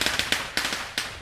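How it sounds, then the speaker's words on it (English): Fireworks or firecrackers bursting outdoors near a workshop where a 1956 VW Beetle is being repaired, giving six sharp cracks in an irregular rhythm over just over a second, moderately loud with a little reverberant tail. "fireworks are getting louder and louder."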